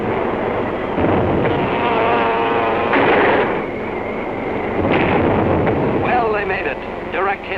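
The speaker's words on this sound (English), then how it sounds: "With those 600-pounders of TNT blowing up right in Hirohito's face." 600-pound TNT bombs from a B-24 raid explode in a 1943 war film, a continuous heavy rumbling barrage of blasts with voices running alongside.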